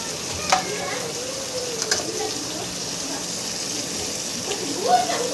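Whole spices and onions sizzle in hot oil for bagara rice while a spoon keeps stirring them, giving a steady close hiss with occasional scrapes and faint talk in the background.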